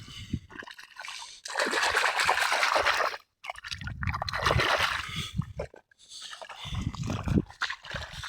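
Water gushes and splashes from a burst irrigation channel in a farm field, loud rushing bursts broken by short pauses, close by and with no talk.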